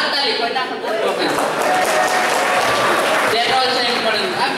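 Audience applause at a student Assamese political comedy mimicry performance during a 2014 Bohag Bihu festival event, a steady dense clatter of hands throughout, mixed with crowd chatter and voices.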